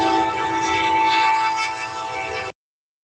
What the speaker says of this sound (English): that train whistle loud